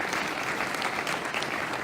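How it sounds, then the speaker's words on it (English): A crowd applauds at a gubernatorial forum on energy and the environment, giving a thick, even roar of clapping that stays loud and unbroken throughout. "Let's have a big round of applause for the good work."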